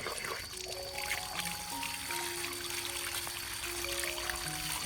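Water runs steadily from a tap over trimmed plant roots and leaves, a continuous close pouring and splashing that stays even throughout, with faint tonal hums in the background.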